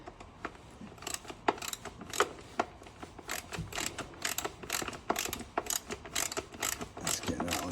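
A T40 Torx bolt being tightened into the DISA valve of a BMW Z4 E85, giving a steady run of close, sharp ratchet clicks in quick irregular bursts with no talking.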